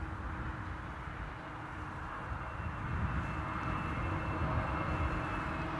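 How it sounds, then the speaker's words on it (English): A wide-body airliner departs runway 27 at Amsterdam Schiphol Airport, producing a steady broadband engine roar that holds throughout and swells slightly in the second half, with no voices. "That's another wide body that they are sending off to runway 27."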